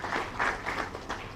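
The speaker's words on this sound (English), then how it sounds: "A round of applause for the president." An audience at a Freetown International Youth Day event applauds the president, a short burst of moderate clapping from a modest crowd, swelling and fading in uneven waves.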